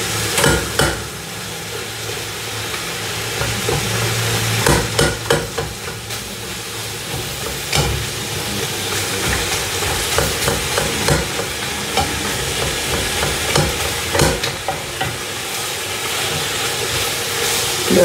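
Minced garlic fries in a pan for a chili dinner, a close, continuous hissing sizzle broken by repeated scraping and stirring sounds, with no voices.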